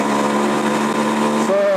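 A Suzuki Max100 two-stroke motorcycle engine revs close by with a steady, buzzing, high-pitched drone that shifts in tone near the end.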